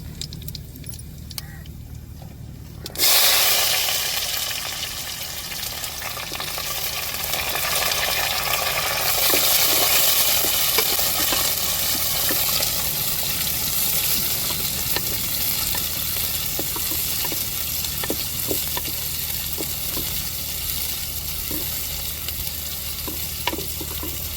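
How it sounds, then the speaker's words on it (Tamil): Onions sautéing in hot oil for chicken kurma: after a quiet start the pan bursts into a loud, steady sizzle and frying crackle, close up, with occasional stirring clinks and no voices. "வெங்காயம் நல்லா வதங்கட்டும்"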